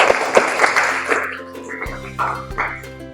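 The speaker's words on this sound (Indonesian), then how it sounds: "Tepuk tangan untuk Diana." Classroom applause bursts out in a dense patter of claps for a student, strongest in the first second or so before fading into quieter background sounds.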